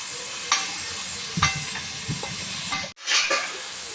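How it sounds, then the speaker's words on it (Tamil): Tomatoes sauté in a pan over ginger-garlic paste while a prawn curry with ridge gourd and radish is cooked. A continuous sizzle runs under a few distinct spatula scrapes and stirs spaced about a second apart, with a brief gap near the end. "இஞ்சி பூண்டு பேஸ்ட் வதக்கிக்கப்புறம் தக்காளியை போட்டு வதக்கிடுங்க"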